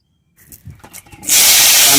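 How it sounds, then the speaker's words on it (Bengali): Potato pieces drop into hot oil in a village kitchen and burst into a loud, sudden hiss that stays steady, after a moment of quiet rustling. "তেল দিচ্ছি, একটু আলু কাটা ভেজে নেব।"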